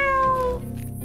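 A cat meows in the fantasy game Drova, one drawn-out, falling mew that fades out in about half a second, then low background tones continue alone.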